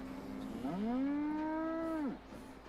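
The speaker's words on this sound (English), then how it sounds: "Oh, it just does mechanical mooing." A single drawn-out moo from a robot cow in Fallout 76, with a smooth, synthetic tone, rising then holding before dropping off abruptly, clear and fairly close.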